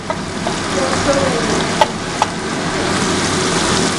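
Soybean curry fries in a pan with turmeric while being stirred, a dense continuous sizzle throughout with two sharp utensil taps against the pan.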